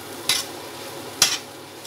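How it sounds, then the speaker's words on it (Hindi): Grated carrots roasting in a pan for gajar halwa, a soft steady sizzle broken by two crisp scrapes of a spatula against the metal. "गाजर को भूनना है, ये देखें"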